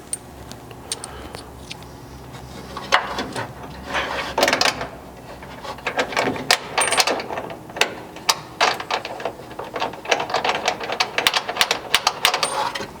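Irregular ratcheting clicks from a socket wrench tightening bolts on a truck bed stiffener of a 3rd Gen Chevy Colorado, coming in close, uneven bursts.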